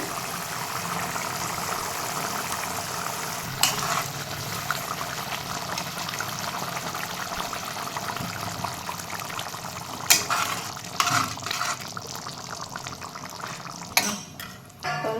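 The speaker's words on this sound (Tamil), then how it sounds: "நல்லா கொதிச்சு வருது." A steady, close bubbling and hissing of Tamil egg curry simmering in a pot, with occasional louder pops and clatters.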